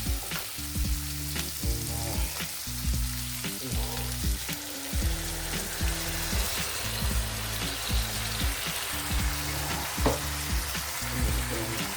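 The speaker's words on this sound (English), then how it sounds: "So I'll let this cook for about 5 to 10 minutes on a high heat" Chicken and onion frying on high heat in a pan, a steady loud sizzle with occasional stirring scrapes and clinks, no talking.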